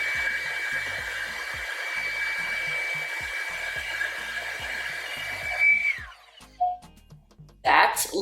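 A Revlon One-Step Air Straight dryer-straightener runs steadily on low heat with a constant whine and airflow hiss, then clicks off near the end; a person talks over it.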